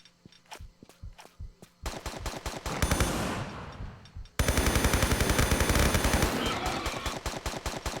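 Enemy gunfire in the Tomb Raider 3 video game: loud, rapid bursts of shots, first spaced and crisp, then dense and continuous for several seconds.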